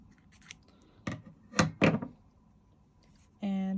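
Scissors snip crochet yarn on a bikini piece, a few crisp close cuts clustered in the middle, with soft handling noise around them and a brief tonal hum at the end.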